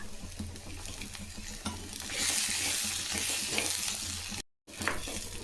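Steady sizzling and stirring of ginger and tomatoes in a pan on the stove, a constant frying hiss with a brief silence near the end, no talking.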